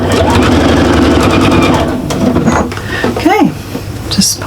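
A sewing machine stitches fabric for a bag tidy in loud, rapid bursts that run continuously, then slow and stop as a person talks over the whirring.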